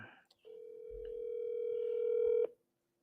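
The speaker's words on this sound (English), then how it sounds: "let's give David a call" A phone call being placed, a single steady electronic tone held for about two seconds after a short click, then cut off into silence.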